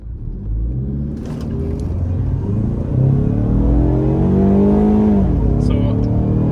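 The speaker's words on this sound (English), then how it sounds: "we're going to launch the car in Sport Plus" A Ford Mustang EcoBoost launches hard in Sport Plus mode. Its engine rumbles up to a loud, close, rising rev that is held late before a shift near the end.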